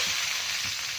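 Cumin seeds and bay leaves sizzling in hot oil in a pan, a loud, steady, close-up hissing crackle that runs throughout with faint stirring underneath.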